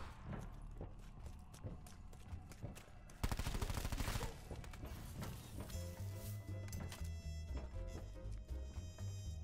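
Gunfire from zombie-shooting in Call of Duty Black Ops 4 Zombies, a busy barrage of rapid shots with a loud burst of automatic fire partway through, set against constant game sound effects and music.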